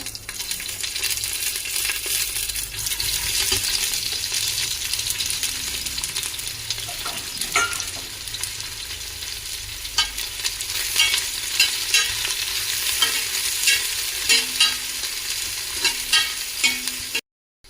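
Green chilies and onion fry in a pan as a continuous moderate sizzle, with stirring scrapes and clinks throughout and sharper taps toward the end, with no talking.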